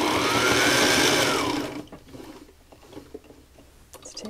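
A Sailrite Ultrafeed LS sewing machine stitching along cording runs in a fast, steady whirring clatter for about a second and a half, then stops, leaving faint clicks and handling noises.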